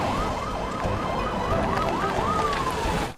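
A police siren wails in rising and falling sweeps, loud and steady against background noise, fading abruptly at the end.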